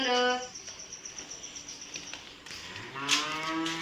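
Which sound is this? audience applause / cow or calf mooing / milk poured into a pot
cow or calf mooing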